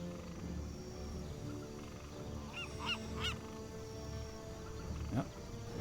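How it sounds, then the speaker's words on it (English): A seagull calls twice in a Warcraft III match, short rising cries over a steady bed of game ambience and hum, followed by a fainter cry near the end. "That's a seagull."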